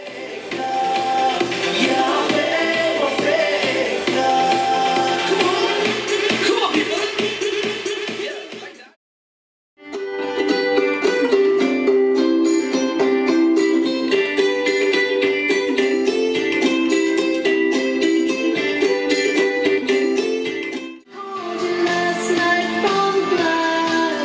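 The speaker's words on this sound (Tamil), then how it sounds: "இப்போ நம்ம சாங்ஸ் ப்ளே பண்ணி சவுண்ட் குவாலிட்டி எப்படி இருக்குங்கிறத செக் பண்ணலாம்." Songs play through a Bluetooth speaker, full-band music running loud and steady with two brief silent gaps between tracks, no talking.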